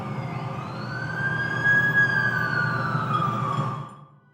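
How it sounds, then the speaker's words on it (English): An ambulance siren in the video game The Amazing Spider-Man wails, rises and holds a steady tone for several seconds over a low engine rumble, then fades away. "That's the ambulance I called."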